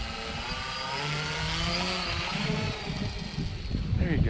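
Small RC plane engine buzzing and rising in pitch as it takes off into the wind on a cold, windy day, heard fairly close, with gusty low rumble underneath.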